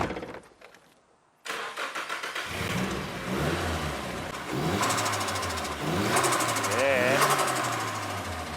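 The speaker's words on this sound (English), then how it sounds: "The car is running, it's sounding good" A restored JDM Nissan 180SX engine cranks and fires up after a quiet pause, then idles and revs repeatedly with rising pitch sweeps, close and loud, with people talking over it.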